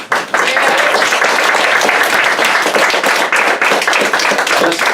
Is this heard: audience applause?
yes